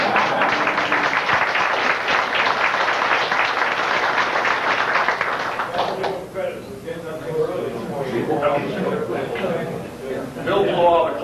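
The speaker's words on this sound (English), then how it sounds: "he can take a big, round of applause" Clapping from an audience at a fly-in ranch gathering fills the first six seconds, dense and steady. Then it thins out as people talk.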